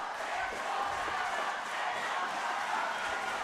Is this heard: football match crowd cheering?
yes